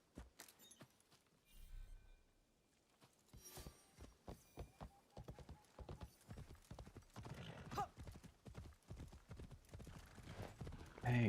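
A horse in the game Assassin's Creed Shadows trots with steady, close clip-clopping hooves that quicken and grow louder, with a short whinny and a thump near the end.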